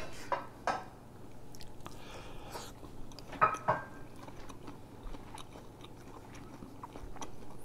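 Quiet crisp bites into fried fish, with a few sharp crunches followed by soft chewing.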